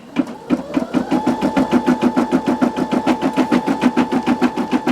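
An embroidery machine stitches a bean stitch around the edge of a hat in the hoop, a close, steady mechanical whir with rapid, even needle thumps and a droning motor tone, with no voices.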